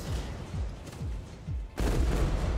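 Artillery fire in the Combat Siege video game, a rapid series of heavy booming shots thumping in quick succession, then a dense continuous barrage, loud with no talk.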